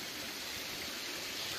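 Mountain stream running down from a sheepfold in the Scorota gorge area, a steady close wash of flowing water with no pauses, filling the short moment without any voices.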